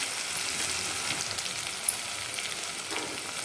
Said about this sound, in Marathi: 2 मिनिट आपल्याला याला पण तेलामध्ये परतून घ्यायचे